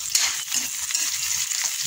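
Garlic and onion sizzle steadily in a hot pan, a close, bright, continuous frying hiss with small crackles and no voices.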